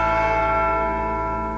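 A bell in a bell maker's workshop, struck by a falling bar, rings out with one sustained, loud metallic tone that decays slowly and evenly, with no voices.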